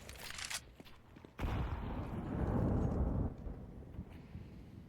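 Grenade blast in Counter-Strike 2 during a competitive ESEA qualifier match, a moderately loud burst with a broad rumbling tail lasting about two seconds, preceded by faint gameplay clatter.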